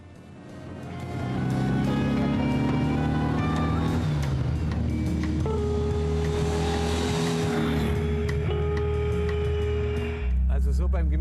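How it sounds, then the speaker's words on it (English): An old Porsche flat-six boxer engine idles and rattles steadily at close range while warming up, a busy mechanical clatter that shifts slightly in pitch before briefly revving near the end. "Christoph says the rattling sounds the car makes while warming up remind him a lot of the VW Beetle"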